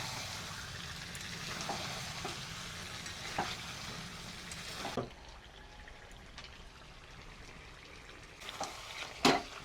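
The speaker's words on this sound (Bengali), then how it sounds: "এইবারে মশলাটাকে বেশ কিছুক্ষণ কষিয়ে নেব।" Chicken chaap pieces cooking down with spice paste in a pan, a steady close sizzle with occasional scraping stirs, quieter after the midpoint, then a couple of sharper spatula scrapes near the end.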